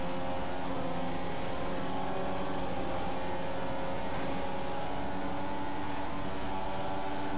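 An F1 car in the F1 2015 racing game at the Bahrain circuit accelerates with a steady, high, buzzing engine drone that holds loud and even throughout, with no voices over it.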